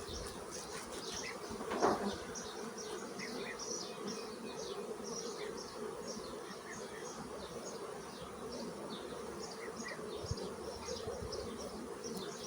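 Honeybees in a hive being expanded with a second box, near fresh comb; a steady dense buzzing drone continues throughout with no talk, one brief thump near the start.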